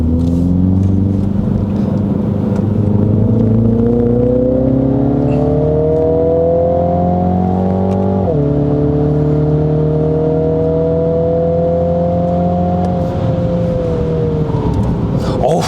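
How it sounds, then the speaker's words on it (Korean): A Mini Countryman JCW in sport mode accelerates hard, its exhaust note rising steadily in pitch, dropping at a gear change midway, then climbing again; a loud, continuous in-car drone with a voice talking over it. "이제 배기음이 완전히 달라졌죠"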